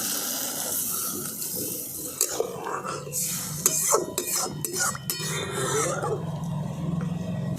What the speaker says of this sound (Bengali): এবার দিয়ে দিচ্ছি আমি পরিমাণ মতো জল।